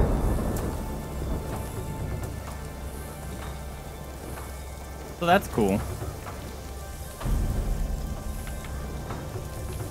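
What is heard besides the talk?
thunder and rain in the video game Ghost of Tsushima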